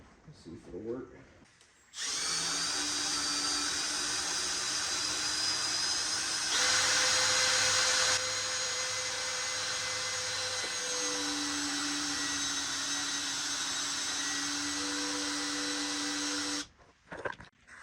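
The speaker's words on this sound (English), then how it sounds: "use my little handheld Warren winch" Small handheld Warren winch pulling a 1983 Mercedes-Benz 240D, a loud continuous electric motor whine running steadily for about fifteen seconds with slight pitch shifts under load, then stopping abruptly.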